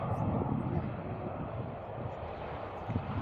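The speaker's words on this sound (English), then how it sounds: "Aer Lingus landing there." An Aer Lingus airliner coming in to land at Manchester Airport, heard from a spotting mound as a steady, broad engine roar that stays fairly even throughout, with people talking nearby.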